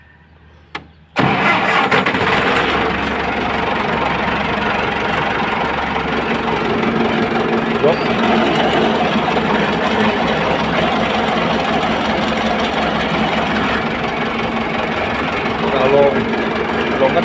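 A farm tractor's engine cranks and catches with a sudden loud start, then settles into a steady, rough, close idle that runs continuously with slight knocking.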